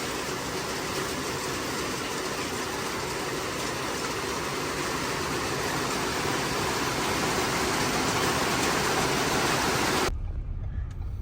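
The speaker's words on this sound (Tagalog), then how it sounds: "Napakalakas po ng ulan." Heavy rain falls in a dense, even roar, loud and constant for about ten seconds before cutting off abruptly. No voices are heard.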